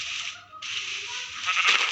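A Minecraft Skyblock goat gives a single drawn-out, nasal bleat, close and clear, with no talk.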